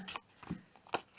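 Scissors snip leftover paper embellishment scraps for card making, giving a few short, quiet, crisp cuts close by with brief gaps between them.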